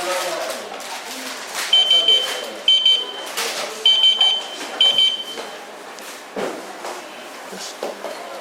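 A baby incubator's alarm buzzer sounds in short repeated bursts of high electronic beeping, grouped in pairs and clusters, while a person talks nearby.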